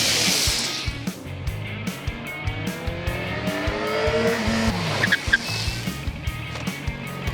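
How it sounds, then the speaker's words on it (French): A motorcycle runs through a series of hard, abrupt stops during an ABS braking test, with engine noise and tyres scrubbing across the surface, along with rapid clicking pulses and rising and falling whines. "Les 4 pilotes de test ont dû effectuer à chaque fois 6 freinages brusques à la suite."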